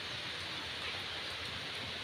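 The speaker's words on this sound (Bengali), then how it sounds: "বৃষ্টি থামার নাম নেই" Heavy monsoon rain pouring steadily, a dense unbroken hiss with no pauses or voices, fairly close and even throughout.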